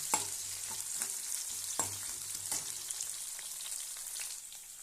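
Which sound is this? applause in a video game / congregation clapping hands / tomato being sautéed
tomato being sautéed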